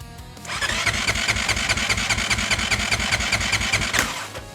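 A Honda CRF450X dirt bike engine, uncorked, fires up and revs hard with the throttle wide open, producing a loud, steady rapid-pulsed roar held for several seconds before dropping off.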